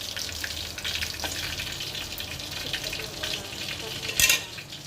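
Dried red chili and cumin seeds sizzling in hot oil as a tempering for masala dal, a steady close crackling fry with a sharp clink of a utensil near the end.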